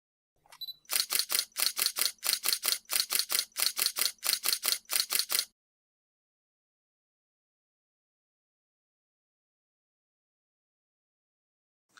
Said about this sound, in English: the camera will keep on taking shots as long as the shutter button